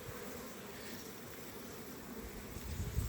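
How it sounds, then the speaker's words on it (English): A swarm of bees buzzes around an opened hive that held a queen and about twenty bees six days earlier, a steady low drone filling the air at close range, swelling slightly toward the end. "Bees everywhere, I know that."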